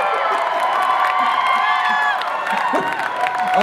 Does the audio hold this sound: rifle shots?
no